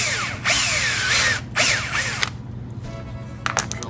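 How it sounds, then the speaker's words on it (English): A power drill whines in two short bursts, its pitch sliding as the bit bites through a metal clamp body, followed by quieter clicks and rattles. "So all we're going to do is drill a hole through the body."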